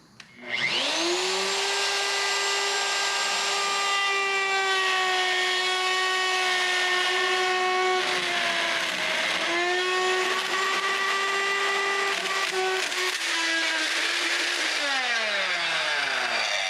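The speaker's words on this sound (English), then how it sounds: "now to clean this up with the router should be pretty quick and easy" A wood router cuts blocking on a wooden boat mast, a loud, steady high-pitched motor whine that holds for many seconds, dips slightly under load and winds down near the end.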